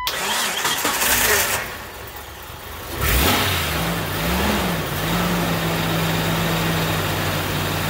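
A 1999 Jeep Cherokee XJ two-door cranks briefly and catches, settling into a steady mid-pitched idle with a slight rev, recorded close with no talk.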